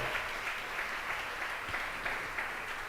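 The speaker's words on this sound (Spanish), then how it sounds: "Denle un aplauso fuerte a la palabra del Señor." Steady applause from a church congregation fills the space, a dense continuous patter of many hands clapping together.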